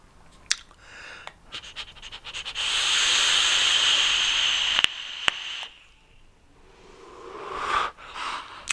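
Air is drawn through a Ystar Wolverine RDA vape set to half airflow, a soft hissing inhale lasting a few seconds, quiet and close, with some light clicks and a fainter breathy draw afterward.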